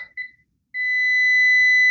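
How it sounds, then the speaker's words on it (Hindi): A multimeter's continuity buzzer, used while testing pins in a Microtek 24x7 inverter/UPS under repair, gives a short chirp, then after a pause sounds a loud, steady high-pitched tone that holds continuously, close and alone without talk. "इस पे बजर बोल रहा है"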